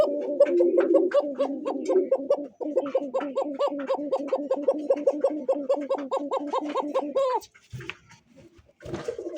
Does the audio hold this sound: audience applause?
no